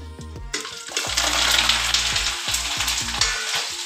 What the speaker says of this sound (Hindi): तेल गरम इसमें मैं डाल देती हूँ लहसुन